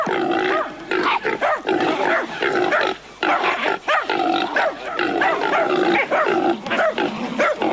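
Hunting dogs bark and bay in a dense, loud, continuous chorus during a wild boar hunt outdoors, with growls and squeals of the cornered boar mixed into the din.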